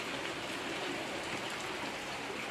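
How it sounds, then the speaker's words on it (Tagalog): Heavy rain on a cold day, a dense, steady roar of downpour filling the whole span at constant loudness with no voices. "Kay grabe ang ulan."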